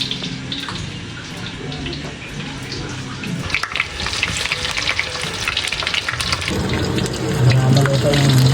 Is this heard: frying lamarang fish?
yes